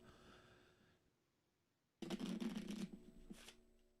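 Playing cards being shuffled up close, a quiet riffle followed by a pause and then a louder, crisp burst of rapid flutter that tapers off, with no talk.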